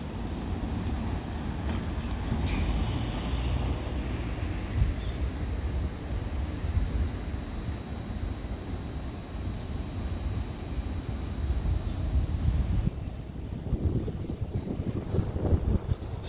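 A WideWheel 2019 1000 W dual-motor electric scooter strains up one of Auckland's steepest streets, giving a steady, close motor whine under a constant roar of wind and road rumble.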